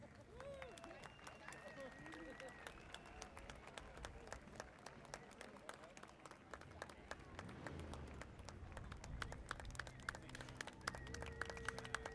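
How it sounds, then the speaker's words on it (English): A crowd applauds at an Armed Forces Day parade in Torrance, a steady outdoor patter of many hands running throughout, with crowd murmur and a few whistles mixed in. "Round of applause."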